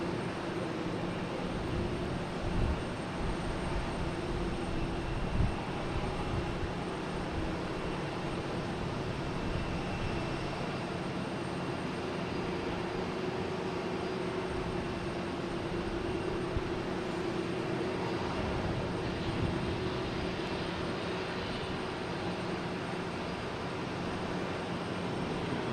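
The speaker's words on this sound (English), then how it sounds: "we got Southwest coming in from Denver, 737. 737 regular." A Southwest Boeing 737 arriving from Denver comes in to land at Boston Logan Airport, a continuous broad jet roar that stays loud and steady throughout, with no talking.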